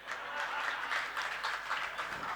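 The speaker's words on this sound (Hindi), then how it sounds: "क्योंकि आपकी ताली बज रही है।" An audience clapping during a sermon, a soft, continuous patter of many hands heard from a distance, faint and even throughout.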